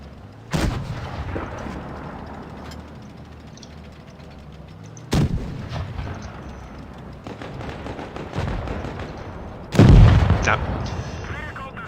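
Tank cannons fire in World of Tanks Blitz with a VK 30.01 P, sharp heavy booms at irregular intervals and a louder blast near the end, over engine rumble and battle noise while someone talks.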